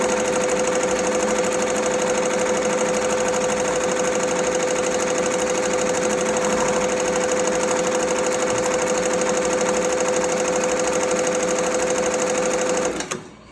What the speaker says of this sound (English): And now it's gonna start sewing from where we stopped.